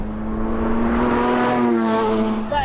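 Radford Type 62-2 sports car with a supercharged engine driving hard on a track, a loud continuous engine note holding steady with rising harmonics, then shifting at the very end as the revs change.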